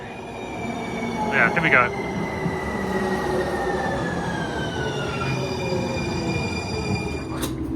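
A train rumbles in with a long, high metallic squeal from the wheels and a brief clatter of bursts; a person says a few words partway through.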